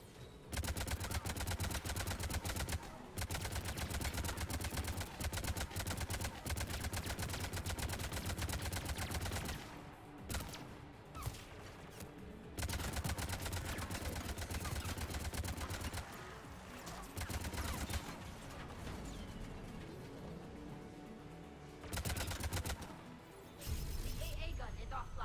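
Mounted guns firing in a sci-fi shooter video game battle against Geth, sustained dense rapid gunfire that stops briefly at points then resumes, with voices talking over it.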